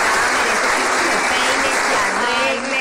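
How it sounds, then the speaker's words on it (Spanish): Loud, dense applause from a crowd, continuous clapping filling the whole moment before tapering slightly at the end. "Recibamos con un fuerte aplauso"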